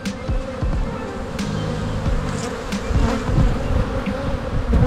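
A dense, steady hum of many honeybees buzzing close by around hives during California pollination, a continuous droning swarm with individual insects passing near.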